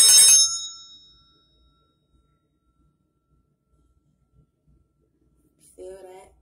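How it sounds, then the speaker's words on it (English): Hand bell rung to clear space during a sound healing session: one bright ringing strike that decays over about a second, then silence, with a brief voice at the end. "So one thing I always do is clear my space with the bell,"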